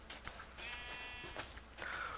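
Repeated sheep bleats from the Minecraft video game, several short, high, wavering calls spread through a couple of seconds over a steady low background hum.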